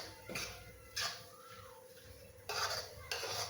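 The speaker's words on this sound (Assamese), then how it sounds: "এনেদৰে মই 5 মিনিটমান সময় ভাজি থাকিম।" A spoon scrapes and clatters in a pan while paneer masala is stirred and dry-roasted without oil, with a few distinct metallic scraping bursts over a quiet background.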